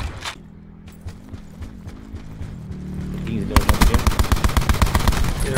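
Video game gunfire in Call of Duty: Black Ops 4 Blackout: a loud, rapid automatic burst of evenly spaced shots follows quieter in-game mechanical sounds and movement.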